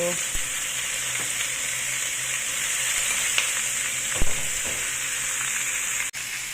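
Pork adobo frying in a pan in its own fat, a steady loud sizzle with a few light clinks and scrapes of stirring and a brief clatter near the end.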